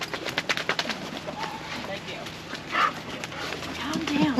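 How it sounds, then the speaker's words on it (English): Excited dogs at a winter campsite in Victoria's alpine country give a run of quick, sharp barks early on, then scattered yelps under a voice giving commands nearby, with outdoor background noise throughout. "We got mad dogs."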